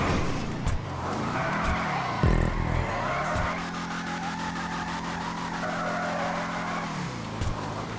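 A Declasse Impaler LX drives in GTA 5 Online with a steady engine drone and shifting revs, broken by bursts of tire squeal and skidding near the start and the end, loud and continuous with no talk.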